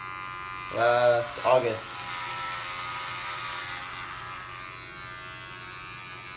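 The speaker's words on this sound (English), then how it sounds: "if you want to shave your head, alright, just go through it multiple times" Electric hair clippers buzz steadily as they are run over a head during a home haircut, with a person speaking briefly over the motor at the start.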